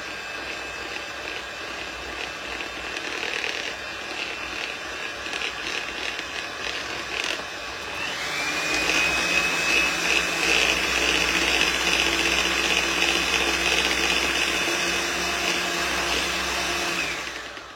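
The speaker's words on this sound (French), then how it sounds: "un batteur électrique, hop, je me repose mes petits bras" Electric hand mixer whirring steadily while savory tartlet filling is prepared, its motor tone rising and growing louder midway, then running continuously close to the microphone until cutting off at the end, with no talk.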